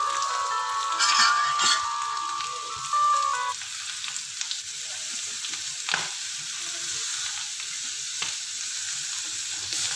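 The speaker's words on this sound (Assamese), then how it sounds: "এইখিনি অলপ ভাজি ল'ব লাগিব।" Tomatoes and capsicum frying in a pan give a bright, steady sizzle with occasional stirring scrapes, loud and close, while a faint melodic tone sounds briefly near the start.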